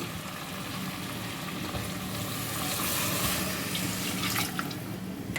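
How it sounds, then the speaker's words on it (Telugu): Water poured steadily into a pressure cooker holding spicy country chicken curry, a continuous close rushing splash that swells slightly midway, with no talking. "ఇప్పుడు మనం వాటర్ వేసుకుందాం"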